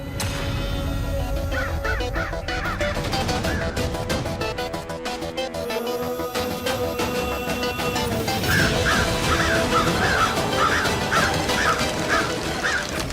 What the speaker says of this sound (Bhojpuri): कौआ के देख के हमार बहुत जी घबराता